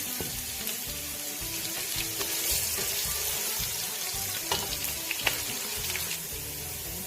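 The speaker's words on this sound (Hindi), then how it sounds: "आधा कप ऑयल मैंने ऐड किया, गर्म हो गया। मैं इसमें एक स्मॉल साइज का प्याज ऐड कर रही हूँ।" A small onion fries in half a cup of hot oil, giving off a steady close sizzle with scattered light pops that runs unbroken for about seven seconds.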